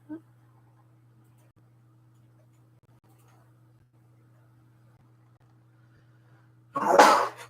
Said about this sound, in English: Husband doing his dad sneezes over there.